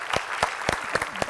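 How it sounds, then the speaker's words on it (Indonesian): A crowd applauds in a brief burst of dense clapping, loud and close. "kita mau ngajak semua yang ada di sini kasih tepuk tangan buat Arie Untung"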